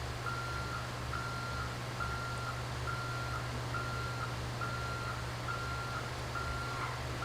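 A bus backing up sounds a steady train of evenly spaced electronic reversing beeps over a constant low diesel engine rumble, with no voices present.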